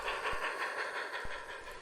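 A model railway passenger train on a layout runs along with steady hiss and rumble, two soft rail-joint clicks marking its slow progress.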